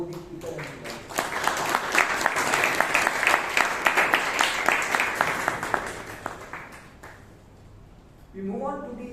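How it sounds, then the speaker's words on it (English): Audience applause at a Toastmasters club meeting in Bangalore, a sustained round of clapping from a room full of people lasting several seconds before fading, with voices starting up again at the very end. "Big round of applause to both the speaker and the guys."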